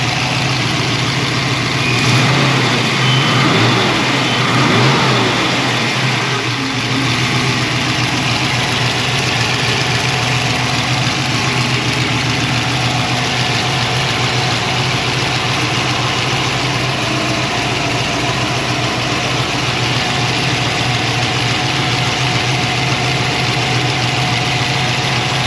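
A turbocharged 363 small-block Ford V8 in a Notchback runs steadily at idle, with a brief rev early on before settling into a loud, constant rumble.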